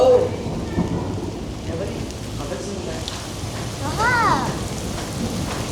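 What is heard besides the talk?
heavy stormy rain with thunder in Quetta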